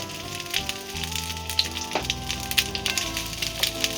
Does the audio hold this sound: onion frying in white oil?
yes